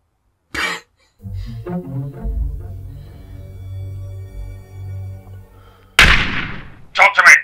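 Gunshots in a home recreation of a Die Hard scene: a sharp single blast, then a low rumbling swell, followed by a loud crack and two more quick bursts near the end.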